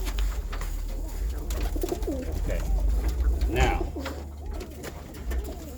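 A group of about 18 pigeons cooing repeatedly in soft, rolling calls close by, under a low background hum, while someone speaks briefly.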